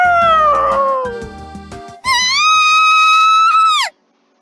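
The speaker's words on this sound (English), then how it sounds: "The scream of a damsel in distress." A high-pitched scream of a young woman in distress from the visual novel Fureraba, a loud sustained cry lasting close to two seconds that breaks off abruptly, following a brief stretch of game music.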